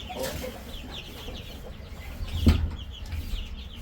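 Young chicks cheep in a small micro brooder where they are kept until fully feathered; faint, scattered peeps over a low background hum, with one louder thump midway.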